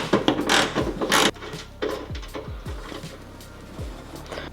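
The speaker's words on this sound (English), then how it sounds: "So this is what I needed my 14mm socket for." A 14mm socket wrench tightens a ground eyelet on a Toyota Tacoma during a kill switch install, giving close, irregular mechanical clicks and metallic scrapes with short ratcheting sweeps.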